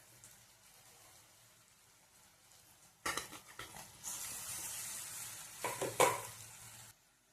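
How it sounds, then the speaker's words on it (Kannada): Boiled potatoes go into a hot tempering pan after the gas is switched off and are stirred in, giving a sudden hissing sizzle followed by scraping, stirring bursts up close, then quiet. "ಇವಾಗ ಗ್ಯಾಸ್ ಆಫ್ ಮಾಡಿದ್ದೀನಿ, ಆಲೂಗಡ್ಡೆ ಹಾಕ್ಬಿಡ್ತೀನಿ."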